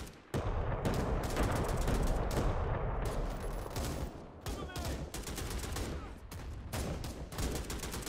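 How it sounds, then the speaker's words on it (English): Rapid gunfire bursts and battle noise from the VR squad combat game Tales Of Glory 2, dense and continuous with sharp cracks, while a voice talks intermittently over it. "What are they shooting at all the time?"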